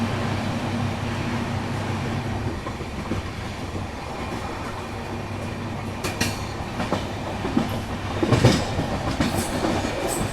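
The Mumbai-Hapa Duronto express runs steadily along the rails, giving a continuous low rumble with rhythmic clatter from the wheels and a few sharper metallic squeals and bangs toward the end, with no speech.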